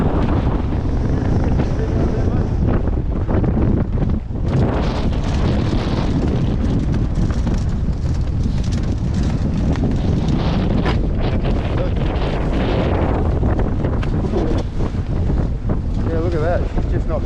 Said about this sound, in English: The wind's just picked up about 30 knots now, maybe a little bit more.